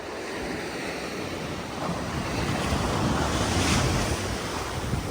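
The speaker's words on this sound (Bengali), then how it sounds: "সাউন্ড তো শুনতেই পাচ্তেছেন, ঢেউয়ের সাউন্ড কি গড়গড় করতেছে সাউন্ডে" Ocean waves roar and rumble onto a rocky shore near Lisbon, Portugal, a loud continuous wash that swells midway, with wind buffeting the microphone.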